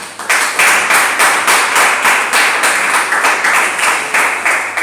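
A church congregation claps in unison, a loud, dense and steady rhythmic applause filling the room, with no talk over it.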